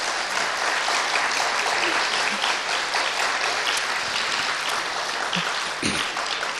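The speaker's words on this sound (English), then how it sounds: "Can everyone please clap loudly?" Dense, sustained applause from an audience at an interview event fills the whole stretch at a steady loud level, many hands clapping together with no break.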